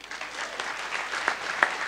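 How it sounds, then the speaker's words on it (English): An audience at the Knight of Illumination Awards ceremony gives a continuous round of applause, a dense, even clatter of many hands with a few sharper claps standing out. "Ladies and gentlemen, big round of applause,"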